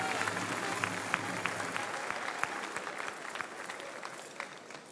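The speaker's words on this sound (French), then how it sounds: "Monsieur le maire, on vous applaudit." An audience at the Bocuse d'Or 2013 prize-giving ceremony in Lyon applauds the city's mayor; steady crowd clapping runs throughout at moderate loudness, with a voice briefly audible at the start.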